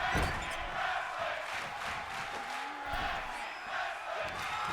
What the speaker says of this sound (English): Tag team wrestling chant from the crowd as they are enjoying this tag team matchup